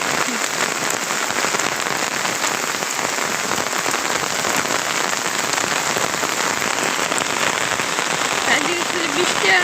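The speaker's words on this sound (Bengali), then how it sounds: "দেখুন প্রচুর পরিমাণ বৃষ্টি নামছে।" Heavy rain pours down steadily and loudly, a dense continuous hiss of drops hitting surfaces close by with no letup throughout.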